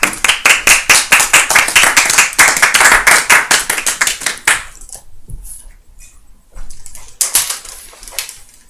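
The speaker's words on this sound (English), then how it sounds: "Please welcome him with a warm round of applause." An audience claps to welcome a guest onto a show stage. The clapping is loud, rhythmic and in unison for several seconds, breaks off into quiet, then returns briefly in a shorter burst.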